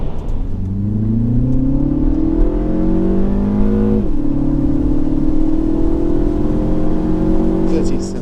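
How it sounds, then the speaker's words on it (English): A Mini Cooper S engine revs up hard accelerating from 30 to 70 mph, pitch climbing, dropping briefly at a gear change around the middle, then climbing again; loud and close. "let's see what this car does on the 30 to 70 sprint."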